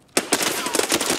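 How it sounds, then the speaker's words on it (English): Gunfire in the video game Escape From Tarkov, a sharp burst of rapid automatic shots following a brief quiet, continuing as a loud rattling volley. "I got shot"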